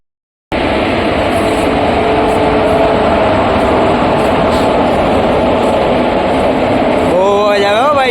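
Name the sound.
diesel locomotive engine of a passing train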